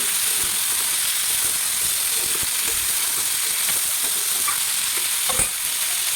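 Dried red chillies and panch phoron sizzle steadily in hot oil, a continuous close, bright frying hiss with a few small pops and a brief louder crackle near the end, with no talking.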